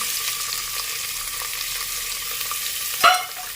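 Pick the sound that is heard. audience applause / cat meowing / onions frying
onions frying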